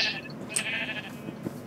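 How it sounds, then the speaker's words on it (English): Sheep bleating in Minecraft, a couple of short nasal bleats rising close by and clear, with faint game ambience around them. "Yeah, we've got lots of sheep."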